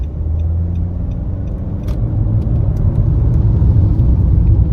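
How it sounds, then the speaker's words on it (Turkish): A 2020 Nissan Qashqai with a 1.5 diesel engine and automatic gearbox accelerates gently on a road, its engine drone and road rumble building steadily and loud from up close. "Şöyle size hani küçük bir hızlanmasını göstereyim."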